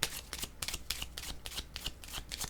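Tarot cards are shuffled by hand, a close run of quick papery riffles and flicks in an uneven rhythm, quiet and without speech.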